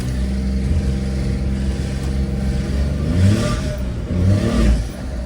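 A small two-wheel-drive car on a test drive at a car yard in Osaka revs its engine, a steady mid-pitched drone that swells twice as the throttle is pushed, heard from inside the car.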